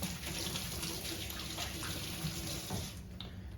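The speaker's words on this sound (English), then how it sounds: "So I'm gonna rinse my hands." A kitchen tap runs steadily while hands are rinsed, a close, constant hissing splash with slight shifts as the hands move through the stream.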